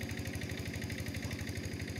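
A Yanmar TF 70 hand tractor's diesel engine runs at a steady idle beside rice fields, an even rapid thumping pulse with a constant mechanical hum throughout, no talking.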